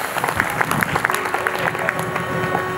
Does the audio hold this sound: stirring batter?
no